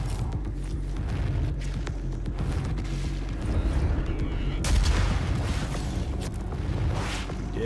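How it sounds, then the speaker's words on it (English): Gunfire in a video game shoots toward the player, with bursts of rapid shots and booming impacts over a dense, loud game soundscape throughout. "Oh, somebody's shooting at me."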